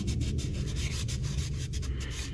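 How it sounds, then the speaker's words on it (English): Steady, dense rubbing of a small piece of sandpaper worked back and forth along an edge lip on a car build's intake air temperature sensor setup, continuous and fairly close with no talking. "Maybe a little piece of sandpaper."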